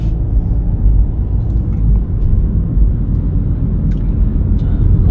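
Car pulling away on a driving test road course, a steady low engine rumble and road noise running continuously and fairly loud from inside the vehicle, with no clear rise or gear change standing out.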